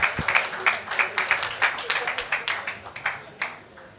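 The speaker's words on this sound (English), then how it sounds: "A round of applause for her, please." A small audience at a symposium claps in a sparse, uneven patter of distinct hand claps, moderately close and fading toward the end.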